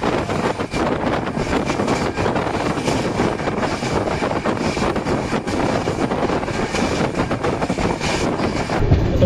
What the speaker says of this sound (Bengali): চলো এবার ট্রেনটা ছাড়ুক, তারপর কথা হচ্ছে।